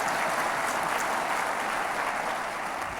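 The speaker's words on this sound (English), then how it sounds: "Yes, you can clap, that's fine." Crowd applause at a community affordable housing action meeting, a steady wash of many hands clapping heard from a distance at moderate volume, with no talk over it.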